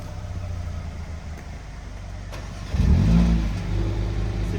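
A Mercedes CLA 45 S AMG idles with a low steady burble, then its engine snaps into a sharp, loud rev near the end before settling into a higher hum.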